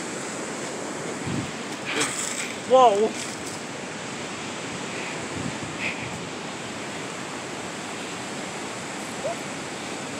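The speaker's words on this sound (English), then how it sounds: "The waves are so loud she couldn't even hear me." Loud ocean surf crashes and roars continuously against the shore, a thick, wind-buffeted wash of breaking water close by, with one brief exclaimed voice rising over it partway through.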